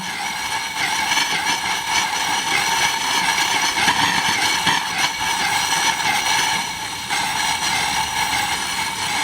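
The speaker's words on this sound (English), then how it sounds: "I don't like when it starts to spurt like this." A vintage Coleman 500 camp stove burning hard, giving a loud continuous roaring hiss with sputtering surges and spurts that rise and dip, close by and alone.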